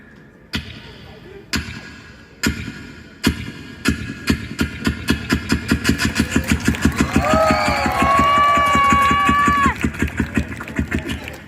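A boy imitates an old hand-cranked generator with his voice, starting with a few spaced thumps that speed up into a rapid, rhythmic chugging with a whining tone layered over it, loud and close.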